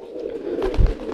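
A young wild crested pigeon gives a brief, low, soft coo, close by and alone, with a faint hum underneath.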